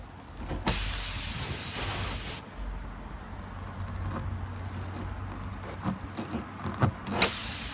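A sharp, loud hiss of air escaping from a punctured car tyre past a failed plug bursts out for a couple of seconds, then continues as a quieter rushing hiss with faint pops and ticks.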